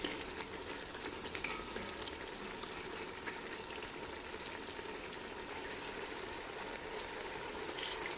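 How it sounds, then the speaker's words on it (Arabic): Chicken pieces searing in a pan give a steady, dense sizzle and crackle at close range that carries on evenly without pause. "يتشوحون الدجاج"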